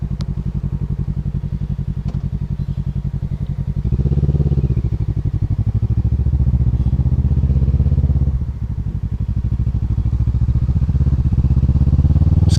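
A Kawasaki Ninja 650R engine drones steadily while riding, loud and close, with a rumbling pulse and wind noise that rises and dips as the throttle changes, and no speech.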